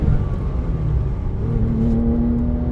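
A Porsche 997 GT3 engine pulls hard from close inside, its tone dipping at a shift into third gear and then rising steadily as the car accelerates.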